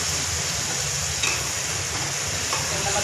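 Masala fries for a bitter gourd and meat curry, a dense steady sizzle in the pan with a few faint scraping stirs and no talking.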